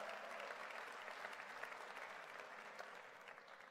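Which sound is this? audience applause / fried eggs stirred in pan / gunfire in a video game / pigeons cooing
audience applause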